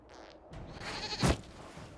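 A goat bleats in Dragon Age: Inquisition, one short, loud cry rising near the middle over low game ambience, with no talk.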